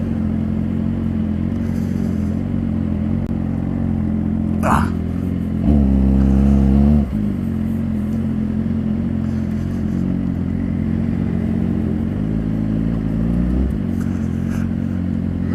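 A motorcycle with a newly changed chain sprocket hums along under constant road and wind noise, then gives one loud, deep revving surge of acceleration before settling back to its steady drone.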